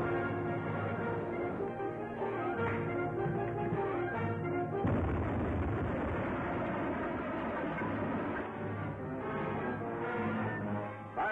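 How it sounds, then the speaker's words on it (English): A submarine torpedo launch in an old serial film: a dense low rushing roar that swells sharply midway, with background music underneath. "Torpedo one fired, sir."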